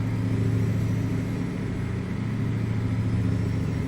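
Mack ENDDT865 diesel engine in a Mack R truck in American Truck Simulator, a steady, loud low-pitched drone with a rumbling harmonic hum, holding constant throughout with no gear changes or talk.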